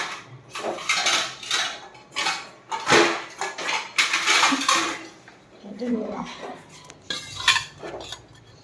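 A plate is taken up while dishes and metal cutlery clatter and clink in a home kitchen during cooking of fish curry and dal, several bursts of close clattering in uneven rhythm.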